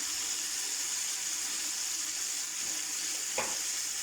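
Spices drop into a pan of rice frying in water with salt, and a steady hissing sizzle runs throughout, broken by one brief clack near the end.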